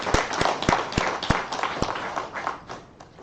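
A small audience at a history lecture in Busan claps for a branch director, with sharp distinct claps over a brief ripple of applause that thins and fades within a few seconds.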